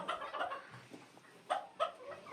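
Hens and roosters clucking inside a coop, several close bursts of clucking and squawks in quick succession.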